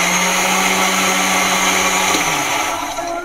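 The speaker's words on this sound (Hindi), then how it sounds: "मैं इसको मिक्सी में डाल के मैं इसको ब्लेंड कर लूंगी।" A blender blending strawberries whirs loudly and steadily at high speed, a continuous motor roar with a slight dip in pitch near the end.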